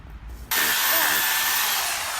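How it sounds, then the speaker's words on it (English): Loud power sawing during building work ahead of concreting, a sudden broadband whine kicking in after a half-second of low rumble and holding steady and close for the rest of the stretch. "One more quite loud sawing, and then you'd be concreting, boy."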